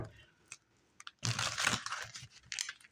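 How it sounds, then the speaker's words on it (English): A short burst of riffling and crinkling as tarot cards are shuffled, close and fairly loud, after a few quiet taps and rustles. "One more shuffle."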